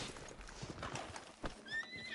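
Horse in the video game Red Dead Redemption 2 Online giving a quick, quavering whinny near the end, preceded by soft hoof clip-clops and scuffling, all fairly quiet and close.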